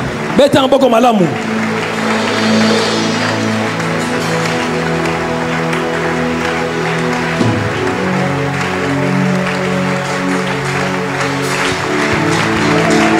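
A congregation at a church service claps and cheers for the Lord, with loud, steady applause and raised voices over sustained keyboard or organ music that runs throughout.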